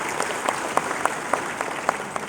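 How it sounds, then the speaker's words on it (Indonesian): A crowd at the opening of a Persis congress applauds the police ranks with steady, dense clapping and a few sharper claps standing out. "Tepuk tangan untuk jajaran kepolisian."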